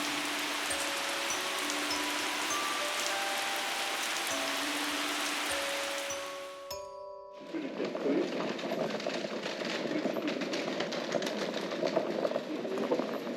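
Steady, close rain falls during a walk back into town on a European bicycle tour along the Tauber, a dense hiss that briefly drops out before returning more strongly.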